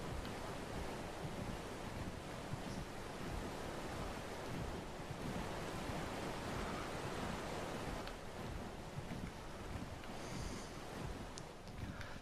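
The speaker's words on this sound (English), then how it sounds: "Okay, so the waterfall." A waterfall in the video game Ark: Survival Evolved on the Valguero map gives a steady, broad rushing roar of falling water that stays even and unbroken throughout, with no talking over it.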